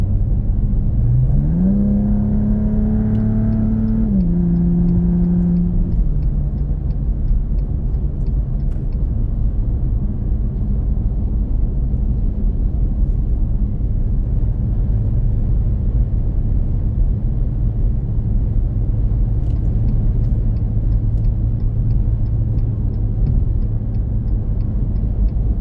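2026 Dodge Charger Sixpack engine on a test drive, accelerating with a rising growl that steps up through gear changes early on, then settling into a steady loud cruising drone with road rumble.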